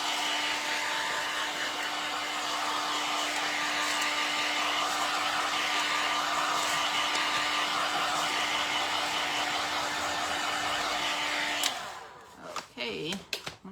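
A heat tool blows a steady, loud whirring hiss with a constant tone while drying a rustic aged craft finish on a tin can, then cuts off abruptly near the end, followed by a few handling knocks.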